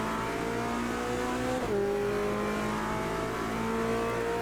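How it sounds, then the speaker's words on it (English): In Automobilista 2 during a GT touring race on the Adelaide street circuit, a high-displacement V8 race car engine holds a steady, droning note, with one quick gear shift partway through and a faint tyre squeal. "I can hear that high displacement V8."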